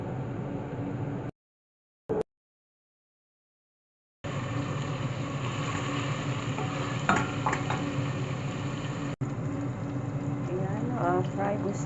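Onions, bell pepper and tomato fry in a pan with a continuous close sizzle, interrupted early by a couple of seconds of silence, with faint scraping of stirring later and no speech.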